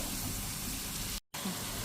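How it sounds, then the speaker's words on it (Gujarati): Water poured from a mixer jar into a pan of roasting paste for khatiya dhokla makes a steady, fairly loud gushing splash that breaks off briefly near the end and then resumes, with no talking. "જે આપણે મિક્સર જારમાં બનાવ્યું છે ને એમાં જ હું પાણી નાખીને અત્યારે નાખી દઉં છું."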